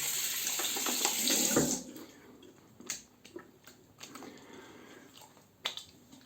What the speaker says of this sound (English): So I will just lightly wash the soap